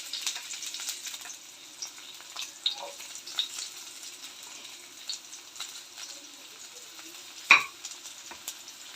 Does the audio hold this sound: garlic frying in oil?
yes